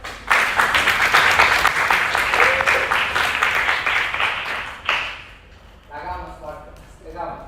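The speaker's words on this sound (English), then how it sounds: "loud round of applause to them." Loud audience applause at the Austrian Integration Bee finals, a math competition, with dense steady clapping that fades out after about five seconds, leaving a few scattered claps and a voice talking.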